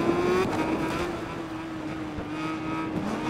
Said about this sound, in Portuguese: também a moto faz muito barulho aqui